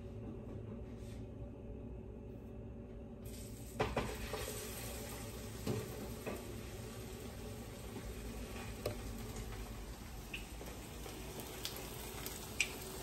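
A chicharrón gordita set into a pan to fry, the sizzle rising suddenly after a few quiet seconds, then a steady crackling fry with occasional small clinks and taps.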